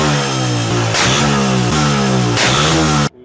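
A Honda 125 motorcycle engine revs hard and steadily, close and loud, with abrupt cuts between revs, then drops off suddenly near the end.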